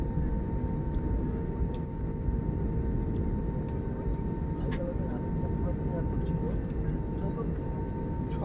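Airplane taxiing on an airport taxiway before takeoff, heard from inside the cabin of a Hyderabad to Kolkata flight as a steady broadband engine roar with a faint tonal hum and occasional clicks, continuous and even.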